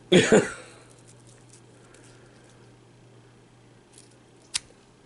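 A CRKT Ibi knife slices through paracord in a couple of quick, crisp cuts at the start, followed by near-silence and one sharp faint click later on.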